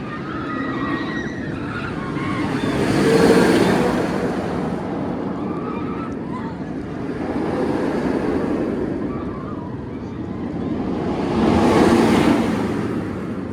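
The Medusa roller coaster at Six Flags Great Adventure rushes past in repeated waves, a broad roaring whoosh swelling and fading three times at moderate distance, with faint crowd sounds between passes.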